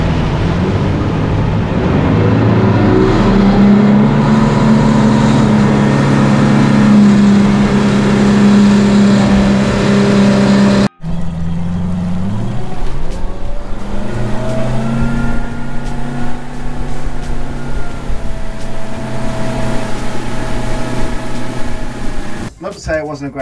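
A Yamaha 250 hp V6 outboard drives an aluminium fishing boat on open water, a loud, steady, grunty engine drone with a brief cut midway before the running note resumes and shifts pitch, and people talk over it.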